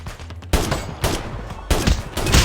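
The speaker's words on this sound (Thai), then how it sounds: "แล้วเขาก็ยิงกันตรงนู้นเนี่ยนะ" Gunfire from the Call of Duty Mobile video game: several bursts of automatic fire with sharp shots, some louder and nearer, others fainter, clustering in uneven rapid volleys, with no talk.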